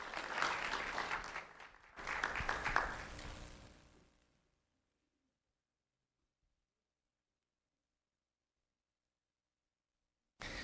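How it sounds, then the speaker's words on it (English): An audience applauds for Joseph Cunningham at a sheriff's office recognition event for an elementary school student. Dense, steady clapping is heard in two bursts that fade into silence after about four seconds. "Let's have a round of applause for Joseph Cunningham."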